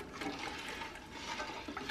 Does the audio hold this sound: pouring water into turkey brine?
yes